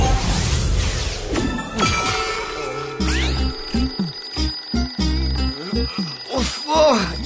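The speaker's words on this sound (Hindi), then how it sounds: "ये अचानक अलार्म कैसे बजने लगा?" A cartoon alarm clock rings and clatters with bright metallic bell tones, close and loud, followed by a run of bouncy, springy sound effects.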